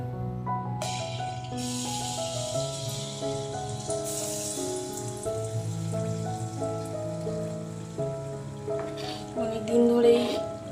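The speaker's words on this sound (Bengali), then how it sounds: "একটা একটা করে ভেজে নেব।" Malpua batter fries in hot oil in a wok, giving a steady hissing sizzle that starts just after the opening and continues under background music.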